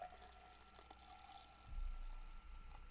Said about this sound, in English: Let's pour this out.